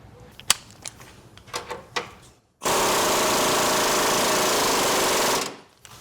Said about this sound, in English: Then we can tighten up the leaf spring bolt